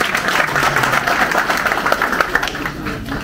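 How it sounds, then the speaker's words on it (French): An audience at a StartUp Academy conference in Dschang claps for a student, a dense burst of applause from a crowd in a hall, loud and continuous, tapering slightly at the end. "Est-ce qu'on peut applaudir pour lui?"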